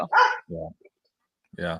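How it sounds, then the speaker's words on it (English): A guard dog barks a few times in quick succession, sharp and fairly close, with a short pause before one more bark, while a person murmurs briefly. "That's our dog, our guard dog."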